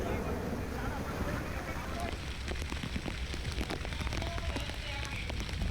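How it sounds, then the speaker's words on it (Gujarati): Heavy rain in Junagadh city, Gujarat: steady, dense rain patters and hisses on surfaces, a continuous wash of noise with scattered sharper drops throughout. "જૂનાગઢ શહેરમાં ધોધમાર વરસાદ"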